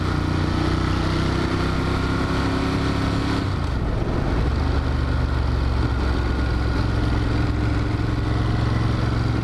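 A Ducati Monster 1200 motorcycle engine runs steadily with a deep, throbbing drone and strong low harmonics, shifting pitch partway through as the revs drop, loud and close throughout with no talk.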